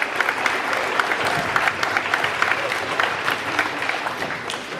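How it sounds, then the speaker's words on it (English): Brief applause from the crowd at a high school football awards ceremony, many hands clapping steadily and fairly loudly, easing off toward the end with no speech over it. "we'll give her a quick round of applause anyway"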